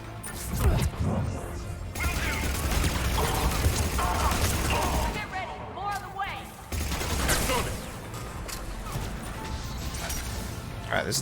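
Bursts of gunfire in Mass Effect 3 crack and rattle in loud clusters, mixed with mechanical clanks and impacts in a busy combat scene.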